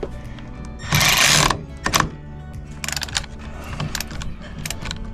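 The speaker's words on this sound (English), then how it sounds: "all you're going to need is a 14mm and a 13mm socket" A 14mm socket wrench tightens a bolt while fitting MORryde parts on a 2024 Grand Design Influence 2903RL RV. Metallic clicks and clanks come up close, with a dense burst of rattling followed by scattered ratchet-like ticks. Nobody speaks.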